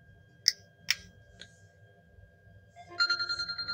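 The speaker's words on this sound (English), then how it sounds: "The call is coming and same, it gives the notification of this event." Incoming mobile phone call triggered by an ESP8266 Wi-Fi module through IFTTT: a few sharp clicks, then a bright ringtone begins with rapid pulsing notes, close and clear.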